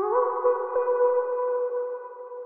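A single sustained sung note processed with auto-tune, distortion, a filter and large reverb, smooth and tonal, close and clear with no other sounds.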